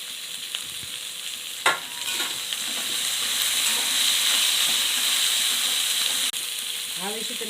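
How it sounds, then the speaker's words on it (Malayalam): Chopped green beans frying in a pan while being stirred, producing a loud steady hiss and sizzle with a sharp spatula knock early on and a brief voice at the end. "ബീനീസ് പയർ അരിഞ്ഞ് വെച്ചിരിക്കുന്നതിനെ ഇടുക"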